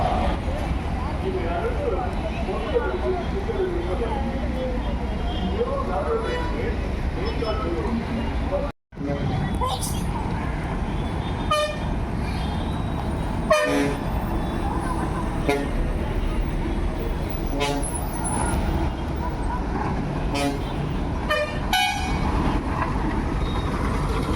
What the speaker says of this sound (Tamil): Thirumangalam city bus